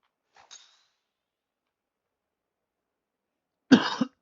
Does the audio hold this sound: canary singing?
no